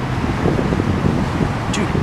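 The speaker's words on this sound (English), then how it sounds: "Really windy downtown today" Gusty wind blowing through a downtown street, a steady broadband rumble with buffeting against the microphone, close and continuous, with faint traffic underneath.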